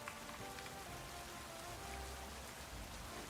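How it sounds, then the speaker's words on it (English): Steady rainfall in the Pokemon Legends Z-A video game, a faint, continuous hiss of drops falling on surfaces with no talking over it. "Why is it raining?"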